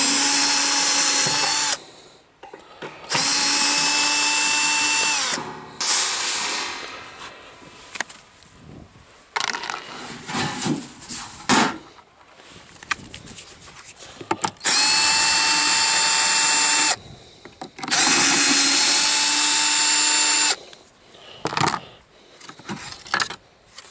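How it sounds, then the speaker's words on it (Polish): Cordless drill-driver unscrews screws outdoors on a farm, with four long, loud bursts of whirring motor separated by quieter rattling and clicking as screws come loose. "wezmę sobie wkrętarkę wykręcimy"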